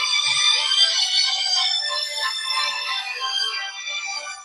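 An old mobile phone rings with a bright, steady electronic tone that holds continuously and fades slightly toward the end, heard alone without talk.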